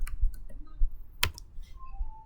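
A few scattered clicks of computer keyboard keys being typed, close and fairly quiet, with one sharper keystroke in the middle.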